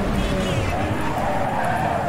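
Car braking hard and skidding into a corner in Need for Speed Underground 2, a steady loud tyre screech over engine roar lasting throughout, with no talk.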